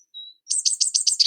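A young bird gives a thin, high whistle, then a quick run of about seven bright chirps. It is close and clear against silence.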